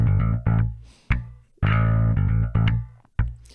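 Short, heavily distorted synth bass notes from a bass plugin's Firm Distortion preset play in a choppy pattern, gritty and loud, with brief gaps between phrases.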